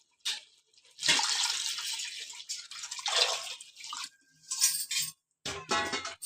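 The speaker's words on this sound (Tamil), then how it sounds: "அதனால 5 டம்ளர் தண்ணி ஊற்றுறேன் நான்." Water poured into a cooking pot while preparing chicken biryani, a steady splashing, trickling pour that stops and restarts in a few bursts, close and fairly loud with no talking.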